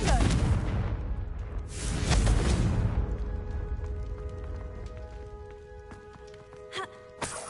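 Confringo blasting spell in Hogwarts Legacy: a loud broadband explosion burst with a second heavy boom, then a long decaying rumble scattered with crackling debris and a few sharp ticks near the end.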